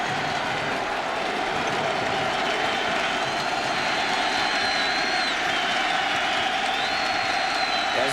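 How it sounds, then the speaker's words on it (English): A college football stadium crowd at the 2002 Oregon vs Oregon State game roars loudly and steadily, a dense, unbroken wall of cheering and noise with no pause. "crowd making lots of noise"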